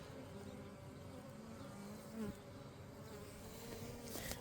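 Honey bees buzz at an open hive, a close, steady drone of many wings with individual bees passing the microphone, and no voices.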